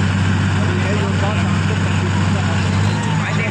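A Sonalika tractor engine labors in a tug-of-war contest against another tractor, giving a loud, constant low drone that runs the whole stretch without letup.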